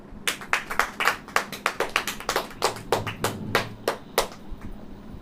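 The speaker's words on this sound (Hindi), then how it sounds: "ताली बजाइए।" A church congregation claps hands together in a steady, fairly fast rhythm, about twenty sharp claps across five seconds, moderately near and without any talking over them.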